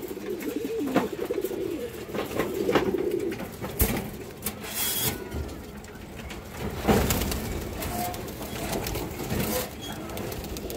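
A silver female pigeon, a small and very lively bird, gives soft, low coos at intervals close by, with rustling and scraping noises in the background.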